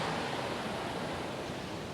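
Ocean waves breaking along the coast, a continuous close roar of surf and hiss filling the clip at an even level, with no voices.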